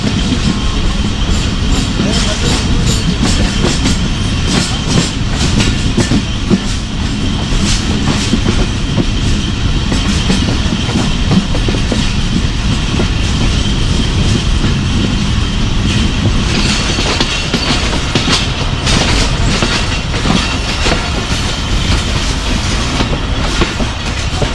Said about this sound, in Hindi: ऊपर 39 जाफर एक्सप्रेस खड़ी हुई है और सामने से 40 डाउन जाफर एक्सप्रेस आ रही है